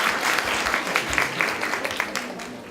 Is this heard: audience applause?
yes